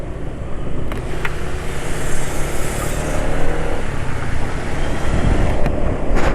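Car engine running after an oil change to Unirace SAE 40, a close steady idle with a rise in revs midway and a few sharp clicks, no talk.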